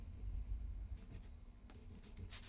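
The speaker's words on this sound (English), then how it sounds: "I'm just gonna draw it." A pen scratches across paper, drawing a keyboard layout in short quiet strokes over a low room rumble, with no voices.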